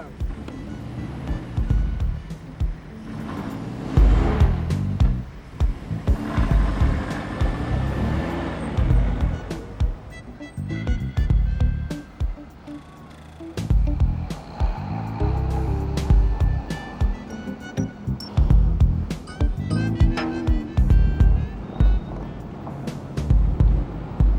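An old car driving past, a rumbling, uneven motor with wind buffeting, rising and falling in loudness over about twenty seconds with no clear talk.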